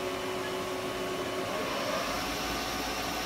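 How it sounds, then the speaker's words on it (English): Haas VF-6 vertical milling machine with its spindle running at 500 RPM, a steady broadband whirring hum of motor and fans, constant and close with no voices. "I'm going to be quiet for you real quick so you can kind of hear the spindle running."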